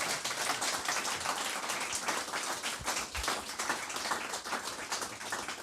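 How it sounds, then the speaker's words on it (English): Audience applause for the judges at a hackathon award ceremony: dense, steady clapping from a sizable crowd, sustained evenly throughout with no speech on top. "a big round of applause for our three judges"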